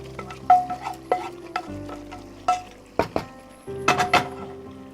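Chicken with butter and spices is stirred in a pan, a low sizzle running underneath while a utensil scrapes and clinks against the pan in irregular close bursts, with no talking.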